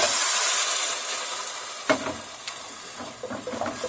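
Tomato sauce hits frying peppers in a pan with a loud burst of sizzling that fades into a softer hiss, broken by a few scraping stirs.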